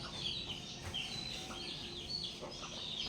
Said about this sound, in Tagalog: Dalawa na lang pala yung sisiw nito.